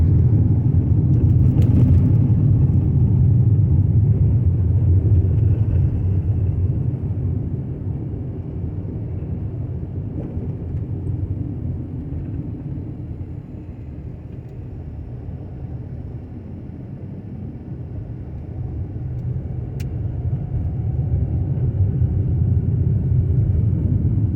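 A car cruises along a country road in Indiana, its steady low engine and tire rumble filling the cabin throughout with only slight swells in level and no talking.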